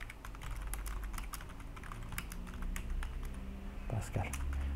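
Computer keyboard typing clatters steadily throughout, soft and close, with quick irregular keystrokes over a low background hum, as a Pascal program is written.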